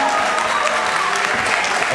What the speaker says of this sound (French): Alors, on applaudit très très fort pour le lycée d'école de Bonjour.